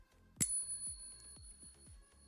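A silver coin pinged with a metal tester gives a bright metallic ping that rings out once and sustains with a clear high tone, followed by several softer dull taps spaced about half a second apart.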